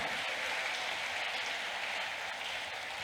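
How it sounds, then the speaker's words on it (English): Steady applause from a crowded audience at the GYAS 2022 awards ceremony, a dense even wash of clapping held at constant loudness for about three seconds with no voices over it. "It's a good time to clap."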